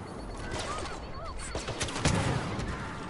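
Rapid bursts of infantry turret fire in a Star Wars Battlefront battle, crackling and dense against steady ambient combat noise, with a heavier cluster of shots near the end.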